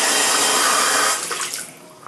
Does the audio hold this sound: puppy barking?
no